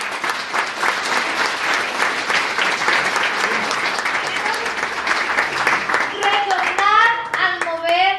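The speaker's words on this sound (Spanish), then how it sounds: "Denle un buen aplauso al Señor." A church congregation breaks into loud, sustained applause that fills the room, with a few voices and a child calling out near the end as the clapping continues.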